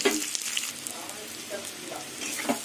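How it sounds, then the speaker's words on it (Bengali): Chunks of mankochu taro fry in oil left from frying fish, a steady bright sizzle with occasional spattering pops and faint stirring, no talk. "এবার কচুটাকে লাল লাল করে ভেজে নেব"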